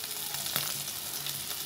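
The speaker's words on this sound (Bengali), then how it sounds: "এখন আমি তেলে চিকেনটাকে দিয়ে দেবো।" Shredded boiled chicken frying in oil over low heat, giving a steady close sizzle throughout with a brief louder crackle partway in, no voices.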